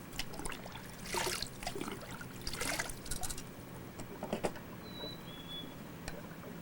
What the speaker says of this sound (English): we discharge this test water right back into the pool